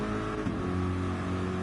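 Corvette race car engine in a racing game at Suzuka, pulling hard under acceleration with a shifting, rising tone, loud and close, no voices.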